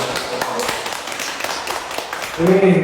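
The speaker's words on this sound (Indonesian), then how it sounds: "Berikan tepuk tangan dulu dong" An Indonesian audience at a Palu city event gives a short round of clapping under a host's ongoing talk, fairly close and moderately loud, before the speaking voice takes over again.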